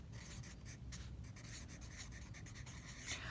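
A Sharpie marker scratches across paper while cross-hatching a shaded sphere, making faint, close strokes of soft rasping in quick repeated rhythm with no talking.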